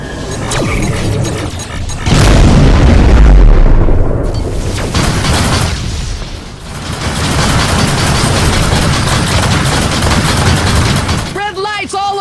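Missile explosions and rapid gunfire fill a space dogfight in the game Rebel Galaxy Outlaw, with loud booms and continuous dense blasting, a heavy impact early and chirping alert tones near the end.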